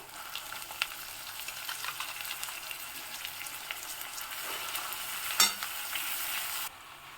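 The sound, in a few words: boiled banana flower stir-fried with spices in a wok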